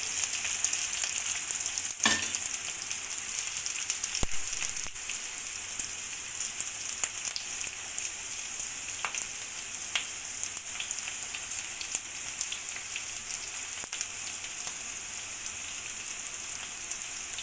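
Local chicken fries in hot oil in a pan with garlic, ginger paste and cumin, a dense, steady hiss and sizzle broken by small pops and a few sharp clicks, with no speech.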